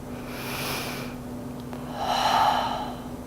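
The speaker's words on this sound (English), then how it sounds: "Taking one more full breath." Slow, deep breaths drawn during a yoga camel pose (Ustrasana): a soft airy inhale, a brief pause, then a fuller, louder exhale, close and steady, with no talking.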